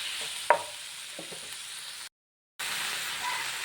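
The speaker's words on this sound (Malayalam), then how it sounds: "ഇനി ഇതിലേക്ക് തക്കാളിയും പച്ചമുളകും ഇട്ട് കൊടുക്കാം." Tomatoes and green chillies sizzling in a pan, a soft, steady frying hiss with a few light stirring clicks, cut by a half-second dropout of complete silence before the sizzle resumes, with no voices.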